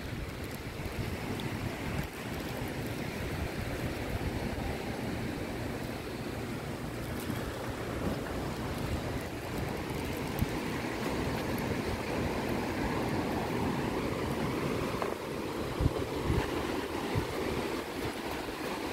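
Waves wash onto Nai Harn Beach in Phuket, Thailand, in a continuous, rumbling surf roar mixed with gusty wind buffeting the microphone. No voices are heard.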